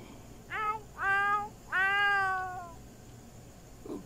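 A cat in The Sims 4 meows at the doctor during a checkup: three clear, drawn-out meows in quick succession, the last the longest, fairly close with a quiet background and no speech.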